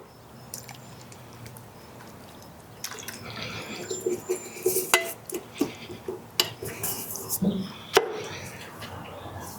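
Beans being added to a pot of mixed ingredients, then stirred, with repeated clanks and scrapes of a utensil against the pot and soft wet sloshing, faint talk underneath.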